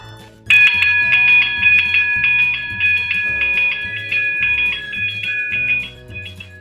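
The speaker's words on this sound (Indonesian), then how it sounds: "Bunyi lonceng juga terdengar sangat keras ya." An electric bell rings loudly and continuously, a rapid steady clatter lasting several seconds before cutting off, with a low hum beneath.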